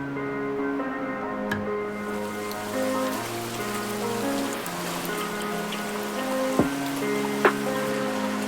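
Steady rain falling on a home lawn, a dense continuous patter with a few louder drips standing out, heard alone with no talk.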